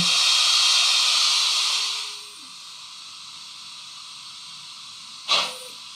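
An ESU BR 078 model steam locomotive blows out steam with a loud, bright hiss lasting about two seconds before fading to a quieter hum, then a short sharp puff of steam near the end.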